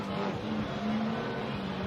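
A VQ-powered Nissan 370Z Formula Drift car roars on track at a drift competition in Orlando, with a brief loud, steady engine drone heard from a distance.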